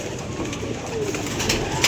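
A pigeon coos softly and close by in a keeper's loft, a brief low throaty murmur over steady faint background noise, with no one speaking.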